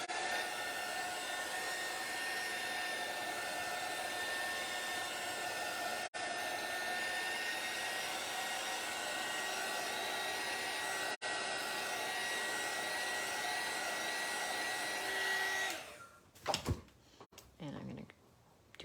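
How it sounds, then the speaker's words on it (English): A steady, loud blowing hum from a heat gun drying paint runs for about fifteen seconds, briefly interrupted twice, then cuts off followed by a few clunks. "I'm going to use my heat gun."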